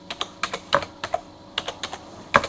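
Computer keyboard typing in a quiet room, a few quick isolated key taps spread unevenly with short pauses, close and clear with no talking.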